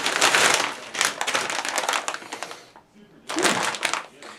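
Plastic crinkles and crackles in close, loud bursts, pausing briefly before another burst of rustling.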